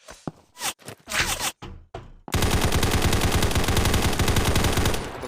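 Gunfire in the mobile shooter Combat Master Mobile: a few sharp separated shots and short bursts, then a dense, sustained stream of rapid automatic fire that carries loud to the end.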